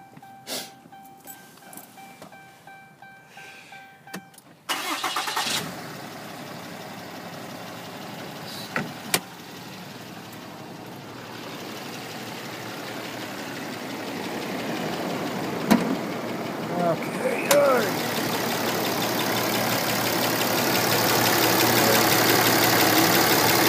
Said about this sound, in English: Let me start it up so you can hear it run.